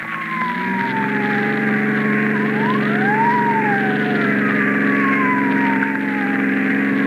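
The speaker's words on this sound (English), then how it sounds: "Police car. I can see the headlights in the rear view mirror." Police car siren in an old radio drama wails loudly and continuously, its rising and falling tone layered over a steady engine drone as the car gives chase.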